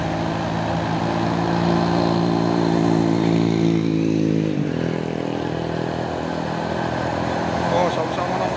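Motorcycle engine droning steadily while its rider pushes a stalled Hino truck from behind on the road, a continuous mid-level hum with traffic noise and voices talking over it.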